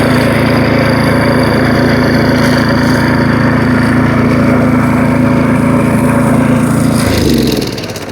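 A lawn verticutter engine runs loud and close at a steady, even drone, then winds down toward the end.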